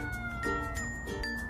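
Two cats in a standoff trade drawn-out, wavering meows and low caterwauls, close by and moderately loud over a faint background hum, with no talking.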